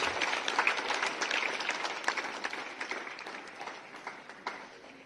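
A crowd at a Navodaya Vidyalaya school event for Ambedkar Jayanti in Sahibganj, Jharkhand, applauds steadily for an artist, a dense wash of many hands that slowly fades over several seconds.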